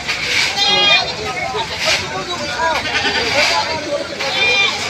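Goats bleat repeatedly at a livestock market where native, upgraded and breeding stock, including a buck, are for sale. The calls come close and overlapping over crowd murmur, with people talking throughout.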